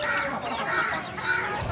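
Chickens and a rooster give soft, continuous clucking in a cage, heard at moderate distance without talk.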